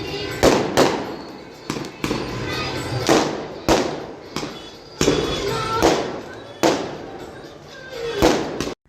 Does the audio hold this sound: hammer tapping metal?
no